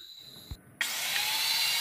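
A power saw bites into thick timber being cut for a house frame, starting abruptly after a short knock and a moment of quiet, then a close, loud, steady buzzing whine.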